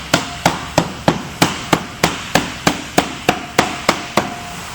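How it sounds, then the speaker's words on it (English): A rubber mallet taps a glazing bead into a window frame, about fifteen evenly spaced, close, dull knocks in a steady rhythm with nothing else heard. "when you get it in, with a rubber mallet hammer"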